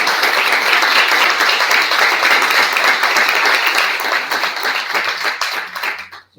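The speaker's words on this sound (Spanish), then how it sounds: "un aplauso para Tomás" Audience applause at a book presentation for the short story collection "Piano de arena y otros cuentos": dense, steady clapping from a room full of people that holds for about five seconds, then thins out and stops.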